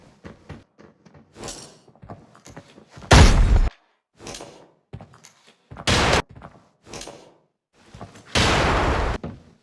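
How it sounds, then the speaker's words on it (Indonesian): Grenade explosions and gunfire in the shooter game Arena Breakout: three loud, broad blasts spaced a few seconds apart, the last one longer, between sharp, quieter shots and thuds. "Jadinya kami kasih salam hangat dengan granat."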